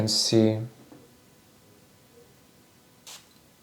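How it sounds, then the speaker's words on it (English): A single short, airy hiss of Habit Rouge EDT perfume from an atomizer bottle, fairly faint and close, following a brief voice at the start. "I'm just gonna spray it once more today."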